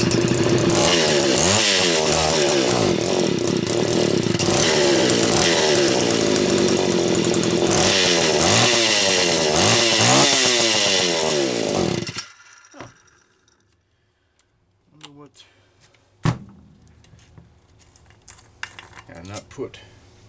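A Homelite Super XL-925 chainsaw on a test run, its engine loud and close with a rough, pulsing idle that rises and falls for about twelve seconds before cutting out, followed by quiet clicks and handling noises.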